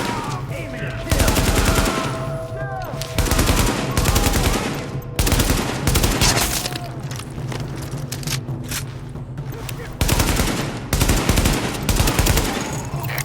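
Sustained automatic gunfire from a rooftop gunner in the video game The Division, loud rattling bursts repeating every couple of seconds over a constant background rumble, with faint game voices in the mix.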